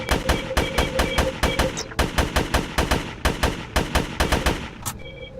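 Rapid automatic gunfire from the video game GRAV rattles out in dense, loud bursts separated by brief pauses, with a short electronic tone near the end and no talking.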